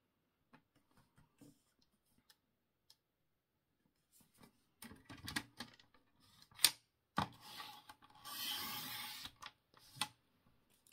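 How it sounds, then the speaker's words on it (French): Paper sheets cut for a handmade flipbook, with scattered faint snips early on and then louder cutting and rustling of paper in bursts close to the microphone, no talk. "Là, je coupe mes papiers avec vous"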